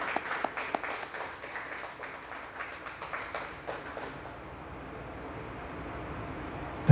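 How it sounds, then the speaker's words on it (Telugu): An audience applauds at a stage event with a brisk burst of scattered claps that thins out and fades after about four seconds, leaving quiet room tone. "క్లాప్స్ గట్టిగా కొట్టాలి."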